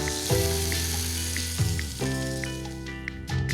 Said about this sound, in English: I just added some butter and some rosemary because I wanna baste these beautiful New York strip steaks